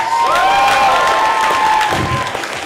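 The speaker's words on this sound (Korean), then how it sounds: "항상 소리 질러주시고 박수 쳐주시고" An audience at a popping dance battle final cheers and claps loudly, with a dense, sustained wash of applause and shouting voices close by and no break.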